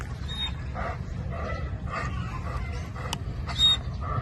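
A Doberman, a two-year-old stud in a pet shop setting, gives scattered yips and whimpering barks in short bursts over a constant low background hum, with no one talking.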